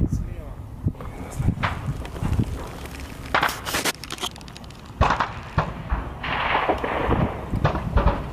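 Gunfire in combat during the war in Ukraine: sharp, irregular cracks and bursts, some loud and close, others more distant, mixed with rustling and movement while soldiers talk.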